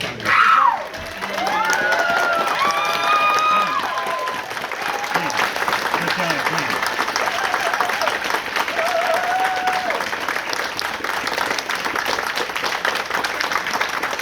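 Sustained applause from a ceremony audience at an SCA Laurel peerage ceremony, steady crowd clapping throughout with a brief spoken word at the start.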